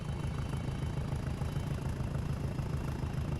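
A diesel locomotive engine in a train video game thrashes hard while pulling out, a dense, throbbing low rumble that stays loud and steady throughout with no voices.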